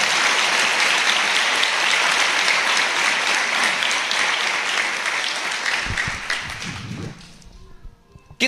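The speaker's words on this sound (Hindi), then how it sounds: "यीशु के लिए ताली बजाएं" A church congregation claps and applauds together in sustained, dense applause at Christian worship, loud and steady before tapering off near the end as a few voices and thumps come through.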